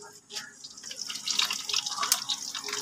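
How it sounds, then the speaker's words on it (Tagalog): Water splashes and hisses into a hot cooking pan holding bitter melon, eggs and chicken, a close, uneven sizzle and trickle that builds over a few seconds. "Ngayon konti, lagyan ko ng konting tubig guys"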